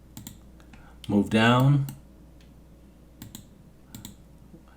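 Clicky computer keyboard typed in quick scattered bursts while saving a 3D model file, close and crisp, with someone briefly speaking over the keys partway through.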